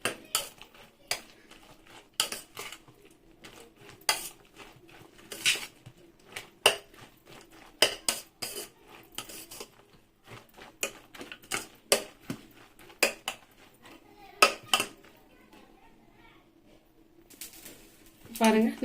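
A utensil clinks and taps against a bowl while vegetable omelette batter is whisked, irregular sharp clicks in quick bursts, with a voice talking faintly between them.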